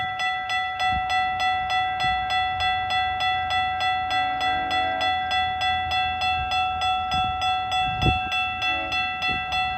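GO Transit MP40 locomotive, engine 618, arriving at Bradford GO station, a steady rumbling diesel with sustained horn-like tones and occasional metallic clanks, heard continuously for several seconds.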